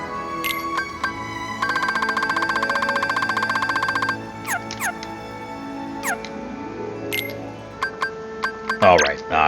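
Kingdom Hearts III gummy phone ringing in a game menu, a steady repeating electronic ring lasting a couple of seconds amid chiming menu blips and game music.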